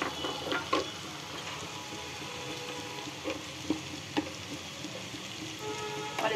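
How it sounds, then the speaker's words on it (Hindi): Vegetables and capsicum for street-style desi chowmein are stirred in a frying pan. A soft, steady sizzle continues throughout, with a few faint clinks and taps of the spatula against the pan. "इसको भी अच्छे से एक मिक्स देखिए स्टर करेंगे।"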